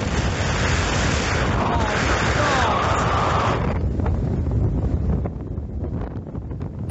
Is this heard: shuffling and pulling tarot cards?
no